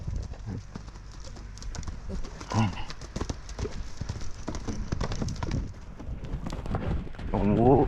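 A horse galloping loose in a round pen as it refuses to trot, with repeated hoof clip-clops under steady background noise and a brief snort or whinny near the end.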